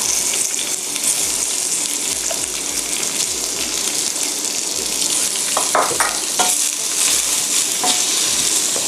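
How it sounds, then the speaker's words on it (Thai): Onion stir-frying in oil in a hot pan for oyakodon: a loud, continuous sizzle with scraping and clinking as the spatula tosses the food. No one speaks. "หอมใหญ่ลงไปผัดค่ะ"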